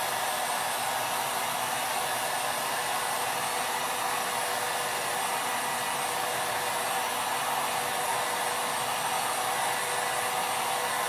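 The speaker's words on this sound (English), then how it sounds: "I'm going to take my heat gun and just kind of give it a little." A heat gun blows steadily for about eleven seconds, drying chalk paint stamped onto fabric; a continuous, loud, even airy roar with no talking over it.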